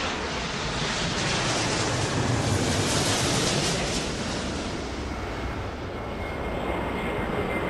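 A jet taking off in the airport video game Airport Madness 4, heard as a steady, loud broadband roar that holds throughout without pause, with no speech over it.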